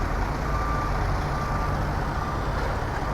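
A truck idles with a low, steady engine rumble while a thin reversing beep tone sounds faintly above it, outside the White House near Lafayette Park at night.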